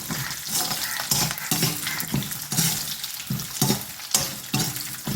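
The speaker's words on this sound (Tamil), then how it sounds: "தேங்காய் நல்லா வதங்கணும்" Grated coconut and garlic with ginger frying in a pan for a potato and peas curry, a loud, continuous sizzle broken by rhythmic stirring strokes roughly every half second.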